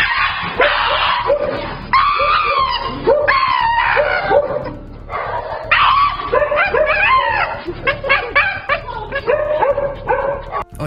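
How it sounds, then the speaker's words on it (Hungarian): A Shiba Inu lets out its shrill, yodelling scream, a run of high wavering yelps and whines in repeated bursts with short gaps, loud and close throughout. "amit nemes egyszerűséggel Shiba sikításnak vagy Shiba jódlizásnak hívnak a kutyások."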